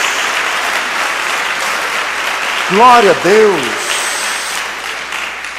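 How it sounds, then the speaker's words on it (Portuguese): Congregation applause in a church service fills the room as a steady wash of clapping, while a voice calls out a short praise over it midway. "Dê uma salva de palmas ao Senhor"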